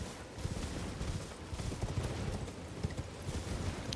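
Horse galloping in the video game Elden Ring, a rapid continuous clatter of hooves at a steady pace under a dense wash of game noise, fairly close, with no talk.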